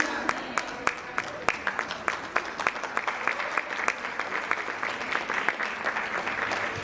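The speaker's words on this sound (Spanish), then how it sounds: "Si dale ese aplauso fuerte de ese mensaje" A church congregation applauds after a sermon, a crowd's steady clapping with a few sharp, distinct claps standing out near the front, moderately loud and sustained, with faint voices mixed in.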